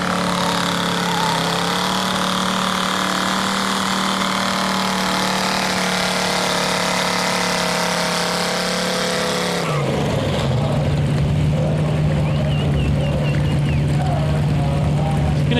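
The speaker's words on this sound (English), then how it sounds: "It does burn out some second gear," Hot rod car engine roaring loud and steady through a second gear burnout, a sustained high-revving drone that drops abruptly to a lower rumble near the end.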